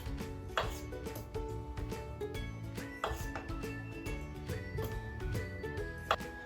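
A knife slices grapes in half on a board with a quick, steady run of soft chopping taps, close and fairly quiet, with light clinks of dishes mixed in.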